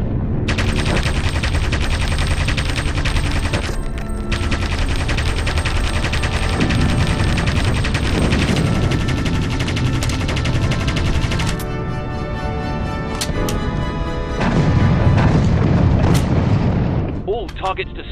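Anti-aircraft guns firing in the Aviators flight game: continuous, loud, dense barrage of booming gunfire and explosions, with heavy engine drone underneath, sustained for the whole stretch and briefly thinning near the end.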